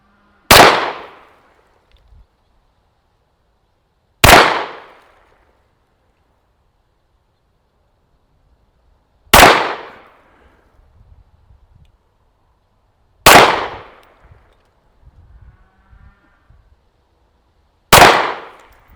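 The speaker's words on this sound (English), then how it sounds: "Okay, so there's our 5 shots." Five loud handgun shots ring out one at a time, several seconds apart, each a sharp crack with a short decaying echo, fired at a target ten yards away on a range, with faint shuffling between them.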